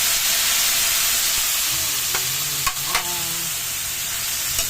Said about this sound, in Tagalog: Isunod na natin yung ating sari-saring gulay na pakbet.